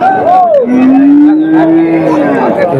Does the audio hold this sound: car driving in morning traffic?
no